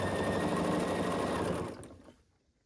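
A sewing machine stitches a star pattern quilt with a loud, steady whirring drone that runs for about two seconds, then winds down and stops.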